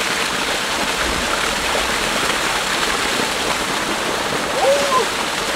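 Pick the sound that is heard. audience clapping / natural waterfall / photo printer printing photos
natural waterfall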